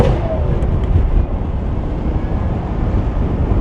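A V12-powered AMG open-wheel car pulls onto the autobahn, its engine roar buried in a dense, loud rush of wind and road noise that holds steady throughout, with no voices.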